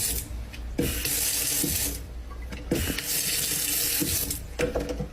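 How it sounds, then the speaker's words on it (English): Water running from a touch-sensor sink faucet, splashing into the basin in several bursts that start and stop abruptly, loud and close with no talking. "Okay, so here's my sink. It is a touch sensor thing."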